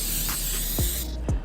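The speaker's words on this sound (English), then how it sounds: "I'm going to spray it with a little bit of my coconut oil" Short hissing bursts of coconut oil spray onto a tortilla in a truck cab kitchen, a steady close spritz with a couple of faint clicks, no talk.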